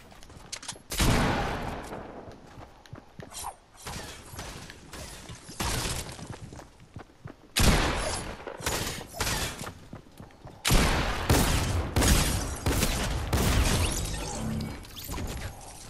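Bursts of AR rifle fire in an online shooter game, loud rapid volleys separated by short pauses, sometimes with crashing impacts, while players chatter faintly underneath.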